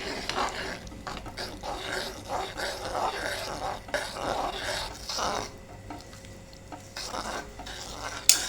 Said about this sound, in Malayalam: ഇനി നന്നായിട്ട് തന്നെ ഇളക്കി യോജിപ്പിക്കാം.